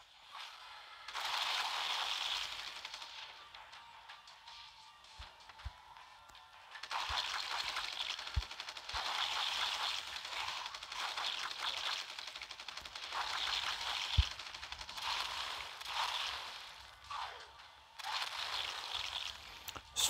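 Sustained rattling bursts of weapon fire from the Sunset Requiem pouring into a mass of walkers in The Walking Dead: No Man's Land, fairly faint, in long stretches separated by short pauses.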